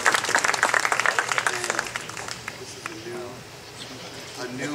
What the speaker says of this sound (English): Can we all get a round of applause for that